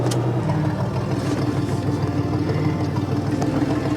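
An old 4.3 engine in a 1989 Chevy S10 Blazer LS rumbles steadily while driving slowly in 4 low, a close, continuous low drone with rough mechanical texture and no talking.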